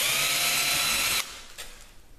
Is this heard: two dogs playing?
no